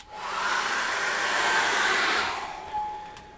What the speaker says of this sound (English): So we dry that off again with a hairdryer.